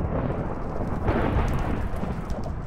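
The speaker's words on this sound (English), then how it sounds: "there'll be lightning in the air." Thunder rumbling with lightning in the Minecraft video game, a loud continuous low roar swelling briefly near the middle, over a rain-like hiss, with no talk.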